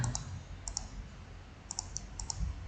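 Small sharp clicks from a computer mouse in pairs and short runs, close and fairly faint over a low background hum, with no talking.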